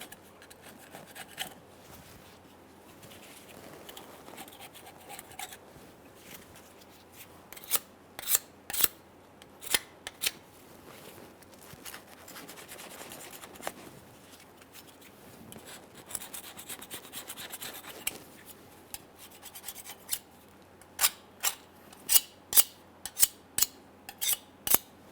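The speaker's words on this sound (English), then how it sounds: "As we clean this, we're trying to scrape away from the inside." A flat blade scraper scrapes a Dodge Ram front differential tube housing, with quiet rasping strokes and then sharp, rhythmic scraping bursts that grow louder and quicker toward the end, with no voices.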